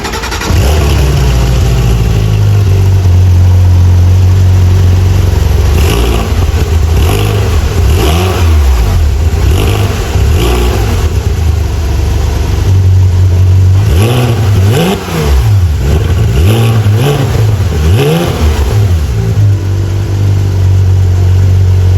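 A Porsche GT3 RS engine revs loudly and repeatedly, rising and falling in pitch with deep rumbling, close and continuous with no talking.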